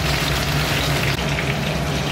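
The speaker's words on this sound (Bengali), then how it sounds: "আমি এবার ফোড়নগুলো দিয়ে দিলাম, তেজপাতা, জিরে, দারচিনি, গোটা এলাচ আর লবঙ্গ।" Whole spices (bay leaves, cumin, cinnamon, green cardamom and cloves) dropped into hot mustard oil in a wok hiss and sizzle in a strong, steady crackle close by, with no talking over it.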